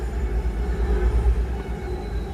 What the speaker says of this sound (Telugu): ఇదిగో ట్రైన్ వచ్చేసింది